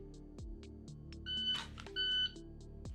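A shot timer sounds during a dry fire pistol drill: two sustained electronic beeps, each about a third of a second, with steady tonal hum and ticking beneath.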